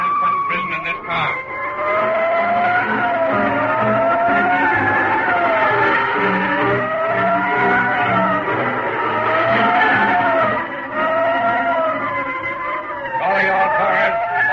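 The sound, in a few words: escape car driving with squealing tires, radio drama effect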